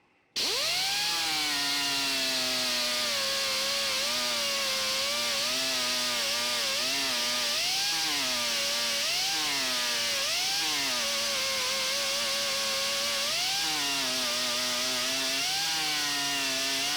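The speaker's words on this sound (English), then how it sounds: "how we can go with the grinder to get that the best we can" An angle grinder grinds down a weld during a restoration, starting abruptly after a brief silence. A loud, high whine runs continuously for about sixteen seconds, its pitch dipping and rising as the disc is pressed into the metal, with no talk.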